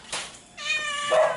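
A cat lets out a brief, clear meow, a short two-part call rising in strength, close by and alone without talking, in a home shelter that keeps around a hundred cats.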